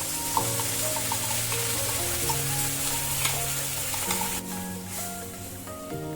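Spice paste hitting hot oil in a pan for restaurant-style mixed vegetables, sizzling loudly and steadily with scraping stirs and small clinks throughout, no voices.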